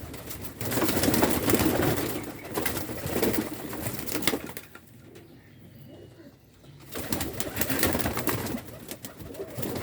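A very young Teddy pure pigeon held in a hand gives soft, close cooing and bird calls in irregular bursts, with a quieter gap midway through.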